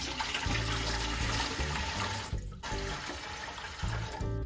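Water runs steadily into a pot for fabric dyeing, a continuous faucet-like rush with a brief dip partway through, moderately loud and heard alone without voices.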